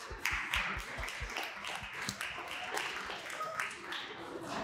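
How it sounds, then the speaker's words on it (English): A small group claps during a live training session, a quiet, uneven patter of separate hand claps that starts more distinct and fades into scattered taps. "Give her a round of applause, everybody"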